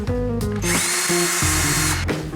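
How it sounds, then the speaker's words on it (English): A power drill bores a small hole into a marked spot on a wall while plasterboard anchors and hedge panels are being fitted, its motor whining loud and steady for about two seconds between brief starts and stops. "we're just going to drill a little hole where we've marked on the wall"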